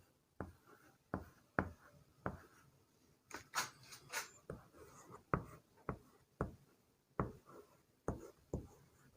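Someone writes on a board during a physics lecture, producing a steady series of sharp, scratchy strokes in an uneven rhythm. The strokes are close and fairly quiet, with no talk over them.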